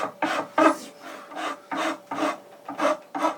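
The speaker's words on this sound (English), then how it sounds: "The next step in this process is filing." A file rasps back and forth across an ebony violin nut being shaped by hand, eight or so steady, close strokes in an even rhythm, with no talking.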